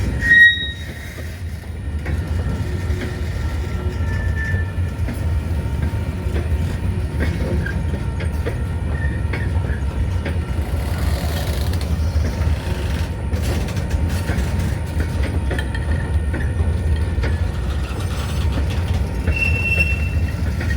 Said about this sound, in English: so he's backing up to let another train come on these tracks right down here